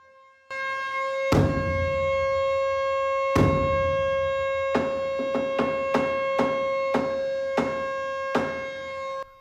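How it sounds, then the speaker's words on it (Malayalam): An Indonesian mosque siren signals iftar prayer time, a loud sustained tone held steadily while sharp drum strikes ring out over it, first singly and then in a quicker run of beats. "പിന്നെ ബാങ്കിന്റെ സമയം അറിയിക്കുന്ന നഗാരയടിയും സൈറൺ മുഴക്കവുമാണ്."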